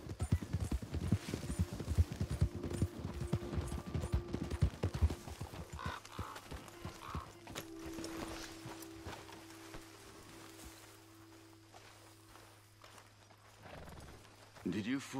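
Horse hooves pounding in a fast gallop in Red Dead Redemption 2, dense rapid clip-clop up close that thins out midway, leaving a low steady hum with faint sounds and a brief thump near the end.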